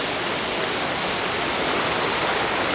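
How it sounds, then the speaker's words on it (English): Waterfall in a valley of Jiri Mountain, a loud, dense, continuous rush of falling water filling the whole stretch evenly, close by and steady, with no voices over it. "Countless waterfalls, including Taeryuk Waterfall and Mapok Waterfall, are here"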